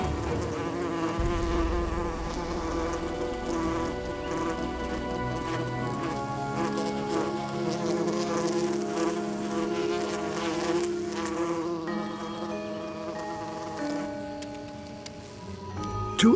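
Insects buzz continuously up close, layered droning wing hums that waver in pitch, with no talking.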